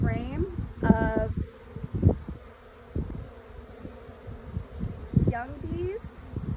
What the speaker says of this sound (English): Got bees all over my hands right now.